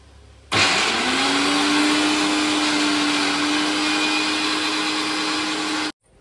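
Electric mixer grinder blending beetroot at home: a loud steady whirring motor runs for about five seconds, then cuts off abruptly, with no talk.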